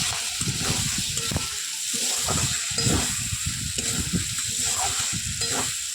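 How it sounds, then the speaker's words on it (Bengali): Chicken pieces and potatoes fry in a pan, with a steady sizzle and repeated stirring scrapes close up, continuous and fairly loud with no talking. "মাংসটা প্রায় ভাজা হয়ে গেছে, আলুটা একটু সিদ্ধ হতে বাকি আছে।"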